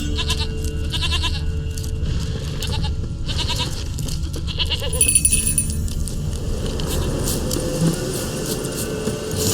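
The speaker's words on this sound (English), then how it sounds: "Here, goat." A goat bleating in the video game The Witcher 3, several wavering bleats close by over a steady low rumble of ambient background, with a faint high jingle toward the middle.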